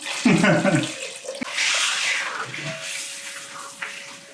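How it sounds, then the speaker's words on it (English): Kombucha tea is poured carefully into a container with ice water, a steady splashing trickle that rises and settles, with a few clinks and brief bumps, close by. "Okay, I'm gonna pour half of my kombucha tea."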